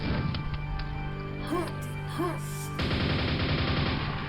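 Rocket launcher fire at monsters in Quake, heavy repeated blasts over a constant droning game ambience, with short descending whooshing cries in between and a louder burst near the end.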